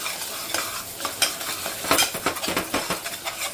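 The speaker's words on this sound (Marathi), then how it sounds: "चांगले मसाले पुन्हा परतून घेते" Spices being stirred and sautéed in a pressure cooker, with a sizzle under repeated scraping spoon strokes against the metal pot, close and moderately loud, with no voices.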